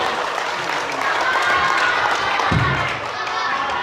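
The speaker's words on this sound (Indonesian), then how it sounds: "Kita berikan tepuk tangan" A crowd claps and applauds steadily, a brief burst of clapping with a murmur of voices, fairly close.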